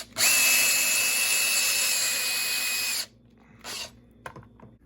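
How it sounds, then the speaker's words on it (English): A power drill whines loudly and steadily for about three seconds while hollowing out a large sculpted tree trunk section, then stops, followed by a brief second burst and a few faint clicks. "I'm going to use Mr. Drill to start opening up some of these large trunk sections and hollowing them out."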